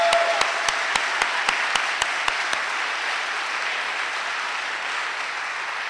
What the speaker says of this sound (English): Let's right now have a round of applause for all the volunteers in the yellow t-shirts who make this happen,